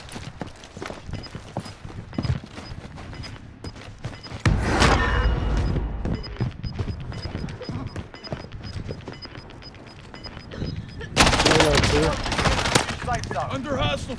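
Call of Duty Modern Warfare gunfire: scattered shots at first, then a heavy sustained burst of rapid fire, a lull, and another loud fusillade near the end, with footsteps and movement between.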